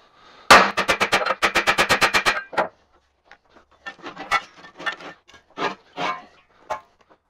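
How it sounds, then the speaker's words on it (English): A hammer on a piece of steel stock strikes a hammer mill screen: a rapid run of about a dozen sharp metallic taps, followed by scattered lighter knocks and scraping at irregular intervals. "use this piece of steel stock and a hammer and just tap the edge of the screen down"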